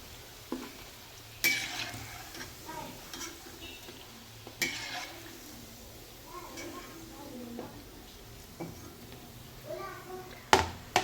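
Manchurian balls frying in hot oil give off a low, steady sizzle with stirring and the occasional clatter of utensils. A few sharp clanks break through, and faint background voices come and go.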